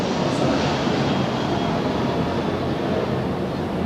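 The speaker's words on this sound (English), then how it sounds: "every 5 GFing minutes, a plane flies by." A plane flies overhead outdoors, a steady broad engine roar that stays loud and even the whole time, with no talking.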